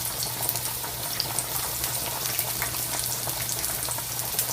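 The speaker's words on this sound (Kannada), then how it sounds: "ಇದನ್ನ ಬಾಡಿಸ್ಕೊಳ್ಳೋಣ" Onion, garlic and green chillies sauté in a hot pan, giving a steady, even sizzle and crackle that stays close and constant with no talking.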